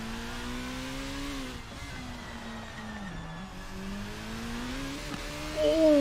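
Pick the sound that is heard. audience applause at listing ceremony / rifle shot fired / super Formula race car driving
super Formula race car driving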